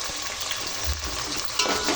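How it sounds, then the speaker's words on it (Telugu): Tomato pieces fry in hot oil while upma is being made, giving a loud, steady sizzle up close, with a stirring scrape part way through. "టమాటా ముక్కలు మొత్తం మగ్గనివ్వాలి ఆయిల్లో"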